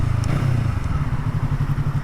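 A motorcycle being ridden, heard up close as a loud, steady engine drone with a rumbling, rhythmic exhaust pulse and light clatter, with no speech.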